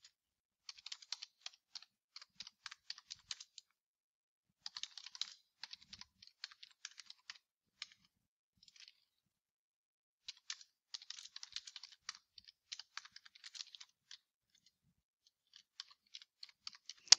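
Quiet, close keyboard typing comes in irregular bursts of crisp key clicks with brief pauses between runs, while someone enters text into a public procurement form on a computer.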